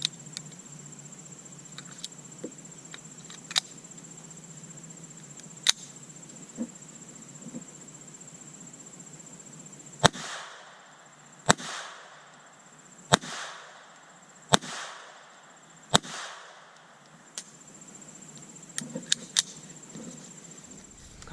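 A High Standard M-101 pistol firing hollow points at a competition practice range: about seven sharp, loud shots spaced roughly a second or so apart, with fainter clicks and handling sounds before them.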